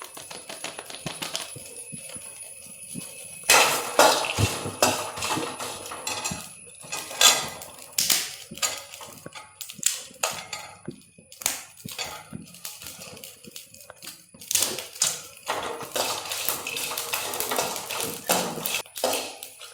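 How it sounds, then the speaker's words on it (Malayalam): Fennel seeds are pounded into powder for a dum biryani, producing irregular sharp knocks and taps of a pestle that come in clustered bursts, close and fairly loud, with brief pauses between rounds. "പെരിഞ്ചീരകം കൂടി ഒന്ന് പൊടിച്ചിട്ട് ഇട്ട് കൊടുക്കാം"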